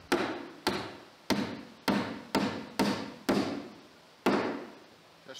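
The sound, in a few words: hammering nails into LP siding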